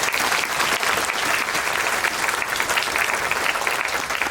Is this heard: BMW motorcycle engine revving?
no